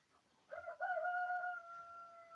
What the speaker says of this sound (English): What a good rooster doing his job.